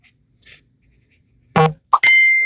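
A phone notification sounds close and loud: a short springy boing, then a bright ding, then a sustained ringing chime tone, with quiet background murmur before it.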